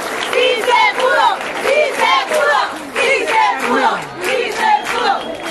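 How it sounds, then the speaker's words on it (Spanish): A crowd cheers and shouts loudly and continuously at a school under-14 girls' futsal national championship celebration, with excited voices rising in repeated waves throughout. "Un aplauso para todos ustedes."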